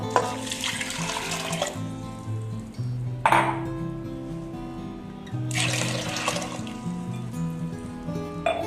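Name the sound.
water being poured into a pot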